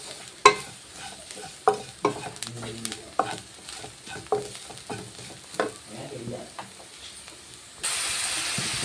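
Fennel seeds frying and being stirred into a pan of chicken curry, with repeated sharp scraping strokes over a steady sizzle and a louder burst of hissing at the end; no talking.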